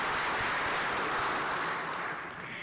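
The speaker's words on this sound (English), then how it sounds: "let's give them an applause." Banquet crowd at an engineering alumni awards event applauding, a broad even wash of many hands clapping at a distance, fading slightly at the end.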